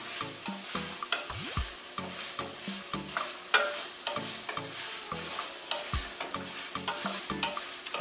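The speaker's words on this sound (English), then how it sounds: "I can already tell that the apples are very nicely sauteing in here" Apple pieces sautéing in a pan for a turkey curry, with a bright sizzle under repeated rhythmic scraping and knocking of a utensil against the pan, close and busy throughout, with no speech.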